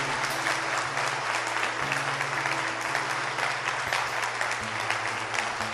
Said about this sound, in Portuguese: Pode aplaudir com força que isso é lindo.